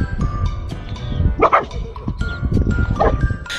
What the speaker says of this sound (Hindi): ये इस डोंकी के खाने पर अपना मुंह मार रहा है और भौंक कर उसी पर दादागिरी कर रहा है